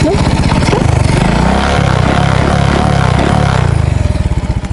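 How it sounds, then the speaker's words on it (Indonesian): An old motorcycle engine revs close by, loud and throbbing, rising and falling in pitch over a few seconds. "Romantis kalau naik motor jadul ya"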